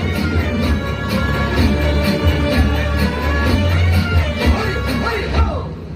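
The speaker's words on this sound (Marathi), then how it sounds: "जोरदार टाळ्या व्हायला पाहिजे चिमुकल्यासाठी." Applause for children at an annual school gathering in Malvati and Sakpalnagar, a dense steady patter of many hands clapping for several seconds amid crowd noise, with occasional rhythmic claps standing out before it tapers off.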